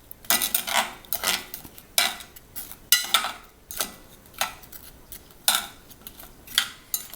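A spoon knocks and scrapes against a pan as cinnamon apples are stirred in butter, in a string of close, bright clinks and scrapes at an irregular rhythm with short pauses between.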